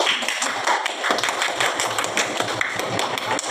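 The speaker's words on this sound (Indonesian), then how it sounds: "Tepuk tangan untuk kalian." A classroom audience claps hands during a microteaching session at a university, a dense patter of many close claps spread steadily across the whole stretch with no speech over it.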